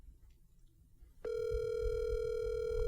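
A telephone call tone begins abruptly after a quiet start and holds as a steady, clear electronic tone with a low background rumble underneath.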